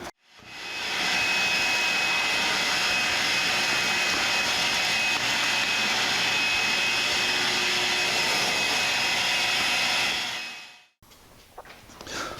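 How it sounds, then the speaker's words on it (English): Vacuum cleaner sucking up scraped-off bed liner from 1984 Jeep CJ7 side steps, a loud steady whine and roar that holds for about ten seconds, then cuts off abruptly into quieter background noise. "For those of you that are allergic to vacuum cleaner noises"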